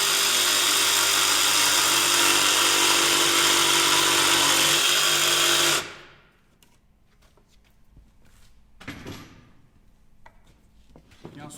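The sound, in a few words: jigsaw cutting an interior wooden rafter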